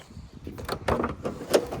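Rear side-hinged door of a 2002 Land Rover Discovery V8, an ex-work seven-seater, clunking open with a few short latch and hinge knocks and a sharper click near the end, close by with no talk.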